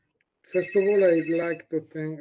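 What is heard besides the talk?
phone ringing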